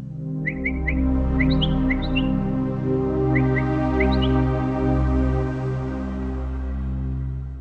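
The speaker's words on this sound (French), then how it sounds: "Le langage d'appel des oiseaux et leur chant." Bright chirps and short whistled calls from birds repeat in quick bursts over a loud, sustained low droning hum.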